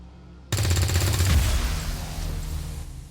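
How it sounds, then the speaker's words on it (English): Rapid submachine gun bursts in the XCOM 2 Long War of the Chosen video game, loud and continuous for about two and a half seconds after a sudden onset, with booming low end and a fading tail. "We'll give you a chance to kill something with your SMGs, guys."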